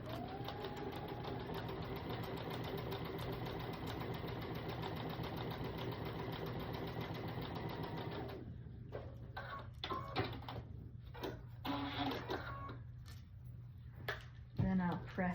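Sewing machine runs in one continuous stitching burst while sewing a fabric door hanger, then stops, leaving soft handling noises and quiet speech.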